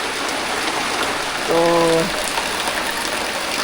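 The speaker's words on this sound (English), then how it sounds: "It's really raining, guys." Heavy tropical rain pours down steadily around a traditional African village house, a dense, even hiss throughout with a brief tonal sound in the middle and a single spoken word.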